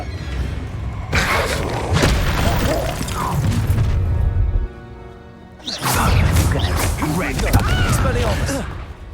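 Confringo blast spells from Hogwarts Legacy going off as loud booming explosions with thuds and crashes, two dense bursts separated by a short tonal lull, with a voice briefly heard amid the chaos.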